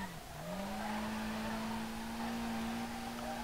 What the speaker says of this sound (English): Oh, barely spooling up in second gear, my dudes.